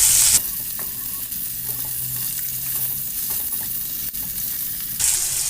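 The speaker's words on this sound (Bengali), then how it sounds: "এবারে দিচ্ছি পেঁয়াজ কুচি পেঁয়াজ কুচিটাকে আমি ভালো একটু ভেজে নেব" Chopped onion frying in oil in a pan, with a strong, continuous sizzle and bursts of louder hiss as it is stirred, plus occasional light scraping of the spatula.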